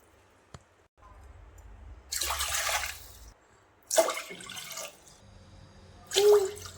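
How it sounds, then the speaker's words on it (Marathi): Four glasses of water splash and pour into a pressure cooker in separate bursts, each lasting about a second, with quieter gaps between them. The sound is close and moderately loud. "त्याच गिलासाने आपल्याला बरोबर 4 ग्लास पाणी टाकून घ्यायचं आहे"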